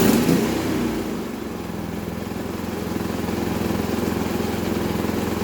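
A Predator 3500 generator engine runs at a steady, even drone, loud and close, with no voices over it.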